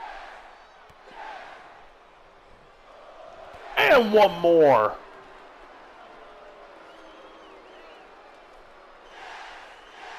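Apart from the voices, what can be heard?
crowd cheering in the video game WWE 2K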